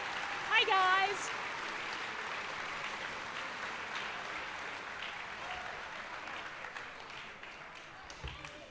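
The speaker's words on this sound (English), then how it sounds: "Round of applause, please, everybody" An audience applauds at an awards ceremony, dense steady clapping that carries on for several seconds and slowly thins, with a brief voice over the start.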